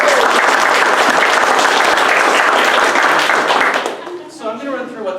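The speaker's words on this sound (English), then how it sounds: "Let's give our judges a round of applause" Audience at a Startup Weekend Iowa City pitch event applauds the judges, a dense steady burst of clapping that fades after a few seconds as a presenter starts talking.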